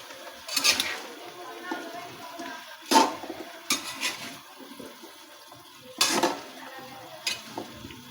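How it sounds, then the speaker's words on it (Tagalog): Carrots and sayote are stirred in a pan, soft scraping and clinking sounds with a faint sizzle, a few louder utensil knocks spaced apart, no voices. "Haluin po natin."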